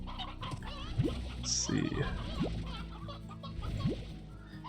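Chickens cluck in the video game Slime Rancher, a few soft clucks and chirps over background game music while someone speaks briefly.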